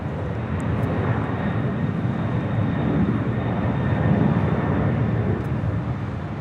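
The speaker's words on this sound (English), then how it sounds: "This 767-300 ER freighter flew for American Airlines starting in 1993." Boeing 767-300ER freighter at Los Angeles International Airport, a steady broadband jet engine roar that holds loud and constant throughout without pause, no talking over it.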